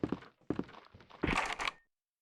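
A locked door being tried in the original Resident Evil game, a couple of dull thunks followed by a louder rattling clatter, then abrupt silence.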